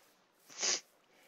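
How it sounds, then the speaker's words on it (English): A single short, breathy sneeze bursts out once, fairly quiet, with near silence before and after. "that was not my sneeze"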